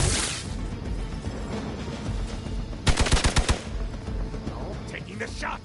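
Gunshots in Marvel Midnight Suns, a tight rapid burst of about six loud, close shots midway through, set against ambient game sound and scattered impacts.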